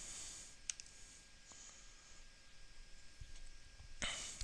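Sharp computer mouse clicks, a few isolated taps spaced apart over a quiet room hiss, close and crisp, with one louder click near the end.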